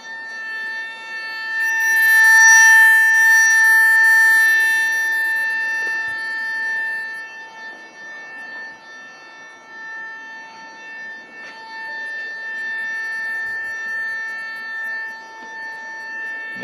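A water pipe gives off a steady, high, wailing cry, like a sustained siren-like whine, with no voices over it.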